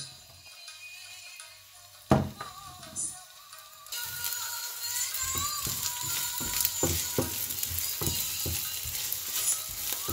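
Onions browning in a frying pan. The clip starts in near silence, then a loud clatter comes as the onions go in, and a steady sizzle follows with spoon scrapes and taps.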